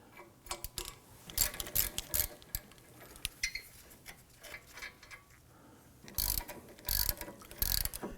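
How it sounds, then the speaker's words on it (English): Ratchet with an 18mm socket loosening caliper bracket bolts on a 2003-2014 Volvo XC90 during a front brake job, with rapid close ratchet clicking in several bursts and louder stretches near the end, no voices. "we're going to use our 18mm socket to loosen and remove these"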